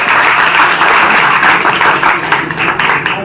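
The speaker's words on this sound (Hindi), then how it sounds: "जोरदार तालियों से स्वागत करिए उमाशंकर।" Audience applause welcoming a speaker at a large union meeting in Delhi, a dense, steady wash of clapping that stays loud throughout with slight swells.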